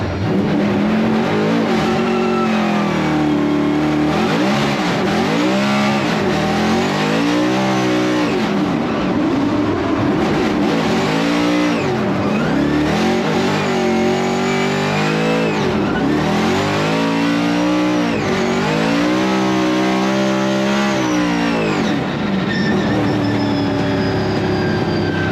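Ford Mustang RTR Formula Drift car heading back out on track, its loud engine revving hard and rising and falling in repeated sweeps throughout, close and sustained with no talk.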